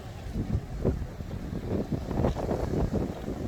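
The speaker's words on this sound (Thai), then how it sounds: "ลมแรงมาก" Strong wind blowing at the sea, a steady rough roar buffeting the microphone with low rumbling gusts that swell and fade throughout.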